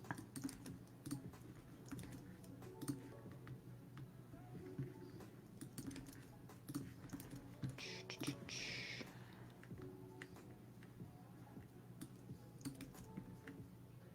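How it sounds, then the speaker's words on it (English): Quiet, steady clicking of a computer keyboard as a short message is typed, running through the whole stretch under low murmuring voices and room noise during a livestream acrylic painting lesson. "I'm just again typing a quick message in the event page and then opening it up."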